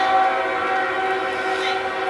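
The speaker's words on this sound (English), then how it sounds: "That is my train that I love hearing at night" A train horn sounds at night, one steady, loud, sustained chord of stacked tones holding for the whole stretch.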